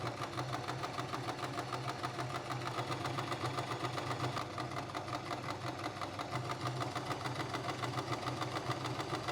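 A sewing machine runs steadily through the neckline of a kimono dress, its fast, even stitching rattle continuous and moderately loud for the whole stretch, with a low motor hum underneath and no talking.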